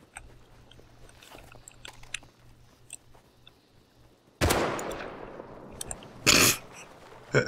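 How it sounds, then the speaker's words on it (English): Gunshots in the video game Rust: after a quiet stretch with faint ticks, two loud sharp cracks ring out a couple of seconds apart, followed by a smaller burst at the end. "Another pot shot."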